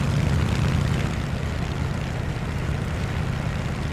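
Propeller aircraft engines in the War Thunder combat flight game, a steady loud droning roar with a deep low rumble that holds constant throughout, no voices.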